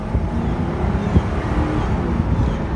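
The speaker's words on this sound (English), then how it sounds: "It also has that fantastic Northstar torque, which is very, very smooth, nice pulling engine." A 2005 Cadillac XLR roadster with its Northstar V8 engine, heard from inside while driving: a steady, smooth low engine drone with road rumble and some wind, continuous and fairly loud, with no talking.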